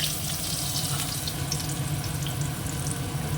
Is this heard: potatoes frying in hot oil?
yes